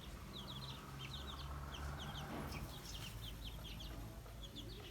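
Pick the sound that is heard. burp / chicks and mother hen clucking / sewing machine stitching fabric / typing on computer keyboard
chicks and mother hen clucking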